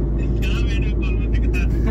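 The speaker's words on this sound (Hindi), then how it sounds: "इधर भैया गाड़ी चलाते हुए" A car on a long drive gives a steady low engine and road rumble heard from inside the cabin, while people talk throughout.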